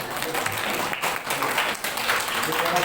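Audience applause at a social teaching session, a steady dense wash of many hands clapping together, fairly close and continuous throughout without any talk over it.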